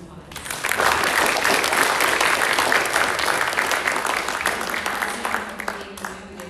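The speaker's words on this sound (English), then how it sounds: "Let's give her one more round of applause" An audience at a school speech and debate showcase claps for a student speaker, a dense, steady round of applause that swells quickly and slowly tapers off.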